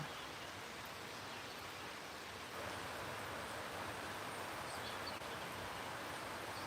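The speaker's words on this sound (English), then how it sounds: "I'm trying to let you guys see the rain." Steady rain falling outdoors, a dense even hiss of drops that holds at a moderate level throughout with no talk over it.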